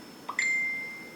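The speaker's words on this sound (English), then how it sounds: "Sorry about my phone going off." A phone notification goes off indoors during quiet needlework, a short two-part electronic ding whose clear tone rings out and fades slowly over about a second.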